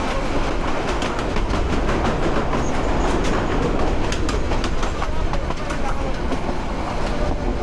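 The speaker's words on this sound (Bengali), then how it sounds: "মানে পুরো পরিবেশটা একবারে কালো করে দিয়ে গেছে এই ট্রেন" Chattala Express, a diesel train belching black smoke, rolls past near Brahmanbaria station with a loud, steady rumble and rapid clickety-clack of wheels, and faint voices mixed under the noise.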